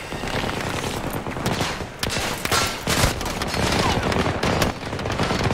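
Dense, continuous automatic gunfire in Battlefield 2042, with overlapping bursts and shots that roll on without a break, loud and close throughout.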